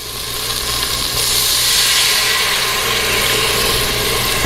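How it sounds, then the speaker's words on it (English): Red wine hits a hot pan to deglaze it for venison stew, giving a loud, steady hissing sizzle that swells after the first second and holds strongly to the end. "what I like to do is use a little bit of red wine"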